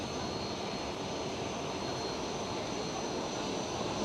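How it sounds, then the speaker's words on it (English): A Delta Airlines Airbus A330 at Amsterdam Schiphol gives off a steady, broad jet-engine roar that stays at an even level throughout, with no talk. "the other Delta Airlines A330 going for Delta 10"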